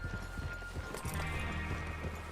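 Horse hoofbeats clop in a quick, steady gallop rhythm in the open-world western video game Red Dead Redemption 2, moderately close and alone against a soft ambient backdrop.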